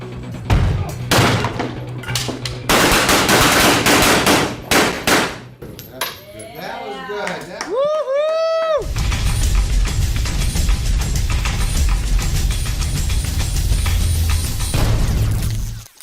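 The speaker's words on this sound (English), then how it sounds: "The live fire event that I attended, I wasn't really sure what to expect." Gunfire at a live-fire training event for an entry team: loud, dense bursts of rapid shots in the opening seconds, a brief lull with ringing tones, then sustained heavy volleys through the rest of the clip.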